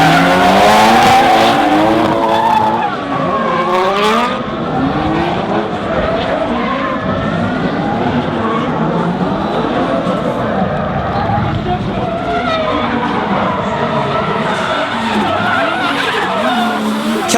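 Nissan S13 and S14 drift cars skid side by side in a chase run at a D1NZ Pro-Am round in Tauranga. Tires squeal loudly with a wavering screech and engines roar throughout, while a commentator talks over the noise.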